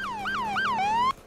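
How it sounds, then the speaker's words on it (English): A police car siren in the Roblox game Emergency Response: Liberty County wails close and loud in a rising-and-falling yelp pattern for about a second before cutting off abruptly. "I hear a siren car"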